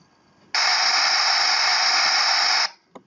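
Phase-inverted pink noise from the LF-Generator signal software: a loud, dense, steady hiss that switches on abruptly, holds for about two seconds and cuts off cleanly, with near silence before and after.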